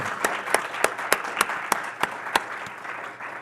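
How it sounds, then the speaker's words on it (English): Applause from a modest audience at a leadership academy closing ceremony, with a loose patter of clapping punctuated by several distinct, evenly spaced loud claps close by. "Can we give them a round of applause?"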